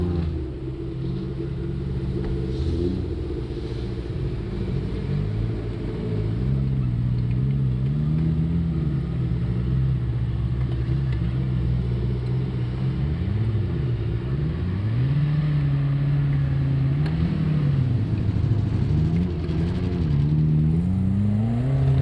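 A stock Suzuki Jimny grinds through hard offroad terrain, its engine droning low and steady with repeated rises and dips in revs as it crawls and climbs, continuous and fairly close with no talk.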